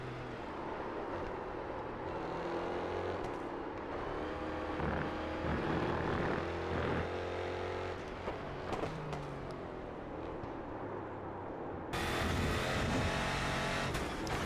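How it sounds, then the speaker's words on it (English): Engine of a Renault Laguna 3 race car, styled after the old BTCC Williams Laguna, in the iRacing sim, droning steadily with rising and falling revs and gear changes throughout, close and loud with no talk. "It's a Renault Laguna 3, modified to look like the old school BTCC Williams Laguna race car."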